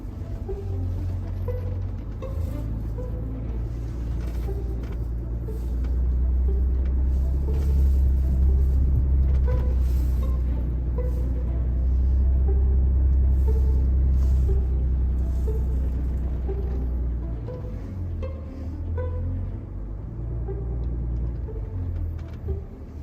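A new Land Rover Defender crawls off-road over a hump sloping to the right, its engine a low steady rumble that swells in the middle and eases toward the end, with no voices.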